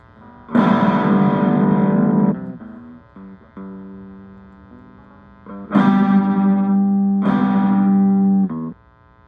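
Loud distorted chords from a Power Gig toy guitar controller ring out in two long bursts with a quieter wavering passage between, the pitch sounding sour and off as it loses its tune.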